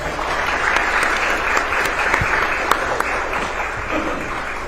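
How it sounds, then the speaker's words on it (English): Audience applause at a city candidates forum, continuous dense clapping from a crowd at steady volume throughout, with a few sharper individual claps standing out. "Let's give them a round of applause."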